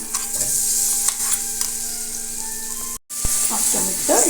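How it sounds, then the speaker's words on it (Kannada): Ground masala fries in oil along with chana dal, urad dal and cashews for an Iyengar-style chitranna, crackling in a steady close sizzle with stirring scrapes and a brief cut near the end. "ಎಣ್ಣೆಯಲ್ಲಿ ಮೂರಿಂದ ನಾಲ್ಕು ನಿಮಿಷ ಸಣ್ಣೂರಿನಲ್ಲಿ ಫ್ರೈ ಮಾಡಬೇಕು"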